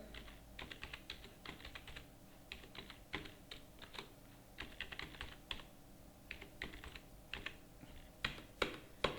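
Quick bursts of keystrokes on a computer keyboard while an email address is entered into Tally Prime accounting software, close and crisp with short pauses between runs.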